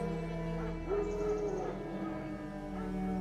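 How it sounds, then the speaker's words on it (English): Wild dogs bark and whimper in The Witcher 3, a few short calls rising over a steady low game ambience and music drone. "No. Wild dogs."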